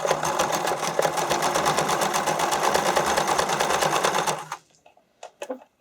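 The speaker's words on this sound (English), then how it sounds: "You're just going to sew that down." A sewing machine stitches down an elastic strap for swimwear or spandex costuming along a quarter-inch edge seam, running in a fast, steady, close rattle for about four seconds before stopping, followed by a few faint clicks and handling taps.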